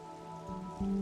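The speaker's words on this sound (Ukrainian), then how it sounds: "Лунає лише легкий шурхіт дощу за вікном." Light rain falls outside a window, a soft steady patter heard indoors in a quiet, lamp-lit space, with a low hum continuing underneath throughout.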